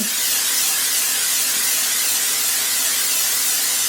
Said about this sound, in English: So I'm just going to kind of generously spray it.